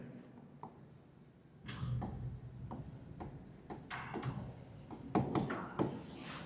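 Marker or chalk writing on a board in a physics lecture on superconductors: repeated short scratchy strokes in bursts, moderately close, with faint room noise and no clear talk.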